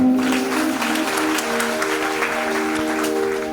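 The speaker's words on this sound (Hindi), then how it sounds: "एक बार उनके लिए जोरदार तालियां" An audience at a Hindi religious discourse gathering gives a loud round of applause, dense continuous clapping with a sustained tonal hum running underneath throughout.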